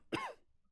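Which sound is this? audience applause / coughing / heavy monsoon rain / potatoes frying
coughing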